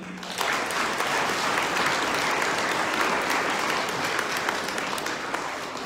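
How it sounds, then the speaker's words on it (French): Parish congregation at Sunday Mass on the first Sunday of Lent applauding its volunteers, a sudden onset of broad, sustained clapping that fills the church evenly for several seconds before easing slightly. "On peut s'applaudir"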